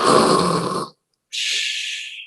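A person imitates breathing, a long noisy inhale followed after a pause by a hissing exhale, close to the microphone.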